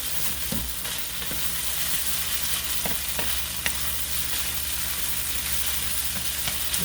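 Chicken and broccoli stir-frying in a hot pan for Chinese chicken and broccoli, a steady close sizzle broken by scraping and clacking as the pieces are constantly tossed and moved.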